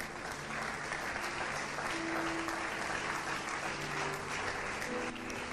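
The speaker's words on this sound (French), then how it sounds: "Est-ce qu'on peut acclamer pour la parole de Dieu?" An audience at a church gathering applauding, a steady, dense clapping that carries on for several seconds at moderate volume, with faint talk in the background.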